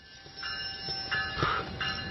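A train grinds as it brakes to a stop, with a loud steady rumble of rolling wheels and rising squealing metallic bursts near the end, heard without talking.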